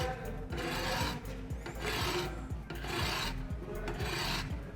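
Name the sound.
sharpening a serrated knife with a small round ceramic rod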